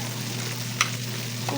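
Egg poured into a pan of stir-fried bitter gourd sizzles in a steady close-up hiss, with one brief scrape or clink partway through and no voices.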